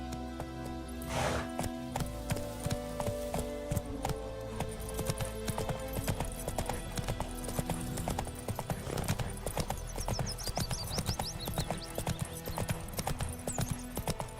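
Horse hooves clip-clop in a steady riding rhythm in Witcher 3, with a brief whinny early on over continuous game music and ambience.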